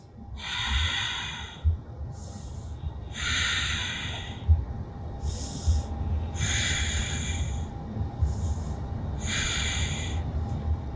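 Deep, forceful nasal breaths taken while holding plank in a back-focused yoga session, about six distinct, even breath rushes in steady rhythm, close and clear with no talking.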